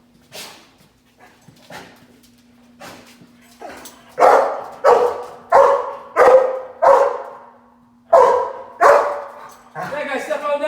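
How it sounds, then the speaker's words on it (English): A police K-9 barks repeatedly and loudly at close range, a run of sharp, evenly spaced barks with a brief whimper between them, while a steady hum and some speech sit underneath. "Anyone outside the building, make yourself known now. I'll send my dog."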